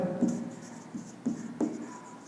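Pen writing on paper during a class 10 maths probability lesson, heard as a few soft, close scratchy strokes in short bursts, with no voices.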